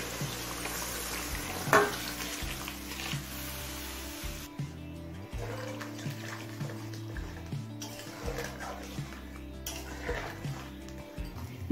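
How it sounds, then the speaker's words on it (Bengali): Curry for a bhola fish dish with brinjal and onion greens, freshly topped up with hot water, is stirred in a pan, giving soft scraping and liquid sloshing over a low simmering hiss, with light knocks and music underneath. "জল দিয়ে নাড়াচাড়া করে মিশিয়ে নিয়েছি"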